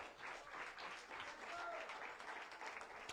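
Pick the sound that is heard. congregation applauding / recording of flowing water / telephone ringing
congregation applauding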